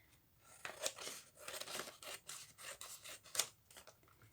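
Scissors trim the edge off a folded paper junk journal page, giving several close, crisp snips and rustles in an irregular rhythm with no talking.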